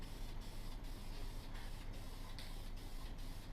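Camouflage spray paint hisses steadily onto a pump-action rifle in a dense, close, continuous spray, with brief regular dips where the nozzle pauses, and no voices.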